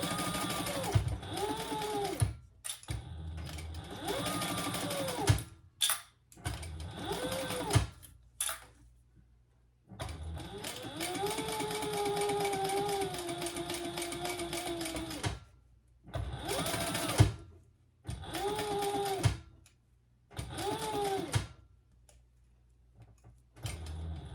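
A sewing machine stitches the seam of a Bartolo fish pouch at slightly over an eighth of an inch, running in several separate bursts of whirring stitches with speed rising and falling, split by short pauses.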